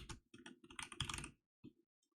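An email address being typed on a computer keyboard: a quick, close run of soft key clicks in uneven bursts, ending with a couple of isolated taps, with no talking.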